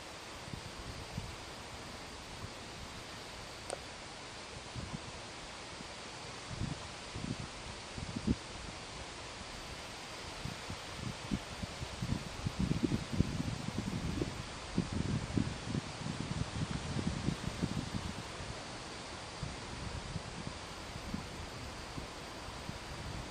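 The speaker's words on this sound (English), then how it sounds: "Wind's really picking up." Wind rushes through leaves outdoors as a storm moves in, a steady breathy rustle that swells into louder, choppier gusts midway before easing slightly, with no voices.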